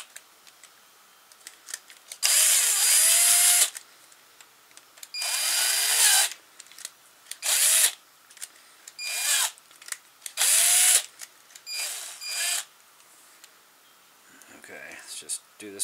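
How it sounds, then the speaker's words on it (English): A power drill bores into a small servo part in repeated bursts of high whining, a few seconds each, separated by quiet pauses with small clicks and handling noises. "You don't want to over drill either, because that's going to cause a big problem"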